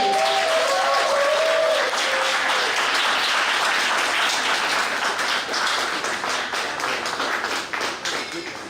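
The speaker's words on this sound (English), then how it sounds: "with a round of applause, let us invite Mr. Gary Little Chief Jenkins onto the stage" A crowd at an NFL honoree event claps and cheers as a guest is brought on stage; brief voices sound at the start, then the applause gradually thins toward the end.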